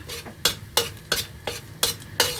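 A spatula stirs shrimp fried rice with salted egg yolk in a hot pan, making six evenly spaced scraping strokes over a low sizzle, close and fairly loud, with no voices.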